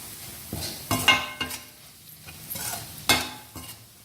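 A spoon stirs and turns potato halwa in a pan over a medium flame, making several scraping, clattering strokes at an uneven pace, with a light sizzle beneath and no talking.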